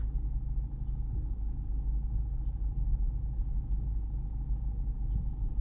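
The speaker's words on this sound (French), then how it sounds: "la voiture, elle refait tout ce que t'as fait en marche avant, en dessous de 36 km/h" A BMW 1 Series car reverses automatically, retracing its forward path at low speed, heard from inside as a steady low engine and road rumble with a faint hum and no voices.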